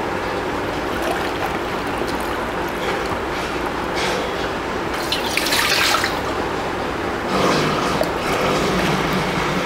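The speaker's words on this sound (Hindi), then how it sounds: "हम 6 लीटर पानी डालेंगे उसके अंदर।" RO-purified water is poured steadily into a container, about six litres for a soda flavour mix at a soda filling plant, giving a continuous rushing splash that swells louder near the end.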